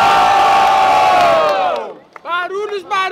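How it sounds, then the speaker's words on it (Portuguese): A crowd at a Brazilian rap battle in Guarulhos roars with loud cheering and shouting that fades out, followed by a voice calling out over the thinning noise. "Barulhos, barulhos pra quem gostou das rimas de Mota"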